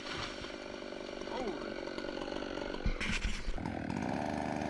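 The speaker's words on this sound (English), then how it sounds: "When the saw blade cuts into the tree trunk" A chainsaw cuts into a tree trunk in a forest, giving a loud, steady, continuous engine whine with a brief change in pitch as the blade bites into the wood.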